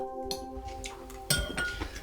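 Dishes and cutlery clink in quick, scattered taps as two people eat hurriedly at a meal table, with a sharper clatter about two thirds through and a low steady hum underneath.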